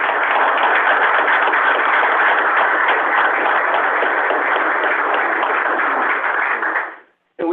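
Audience members at a Board of Supervisors meeting give a sustained round of applause, dense steady clapping that fills the room for about seven seconds before fading abruptly into silence.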